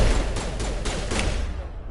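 Rapid bursts of shotgun fire from a firefight in the video game Mass Effect, played on insanity difficulty, come as a dense, loud, continuous barrage of repeated blasts with no talking.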